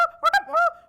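A man's mouth call imitating a feeding Canada goose in flight, in the North Carolina mouth goose-calling tradition: three quick nasal honks, close and loud, with no other sound.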